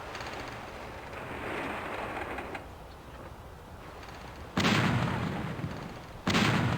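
Cannon fire in the naval video game Battle Navigation: two loud, close booming shots a couple of seconds apart, each a broad burst that decays slowly, over a steady rushing background with no talking.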